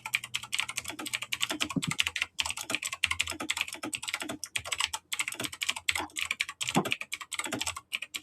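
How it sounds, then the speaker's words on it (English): Rapid typing on a computer keyboard, steady clicking keystrokes close up with brief pauses, no voices over it. "I'm going to go and just type really quick."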